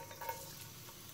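Finely chopped garlic fries in oil in a pan, giving a faint, steady hiss for about a second with no voices.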